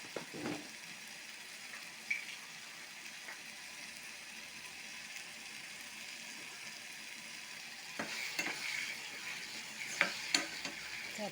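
A spoon stirs tomato chutney in a pan as sugar is added, giving a steady soft sizzle with scraping strokes and a few clinks, louder toward the end, with no one speaking.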